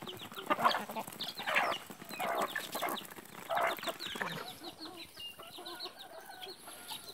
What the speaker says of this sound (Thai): ไก่เงี้ยนะเนี่ย